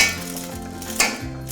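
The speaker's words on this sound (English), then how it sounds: "I'm here mashing the potatoes with a whisk" Metal whisk scraping and clinking against a pot while potatoes are mashed, with short rhythmic strokes and a sharper clank partway through.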